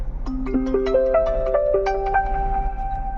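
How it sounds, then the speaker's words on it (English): A phone's incoming-call ringtone plays through a car head unit, a clear stepped melodic tone sequence of bright notes, moderately loud over a low background hum. "So now you see we have a call coming, the phone is ringing"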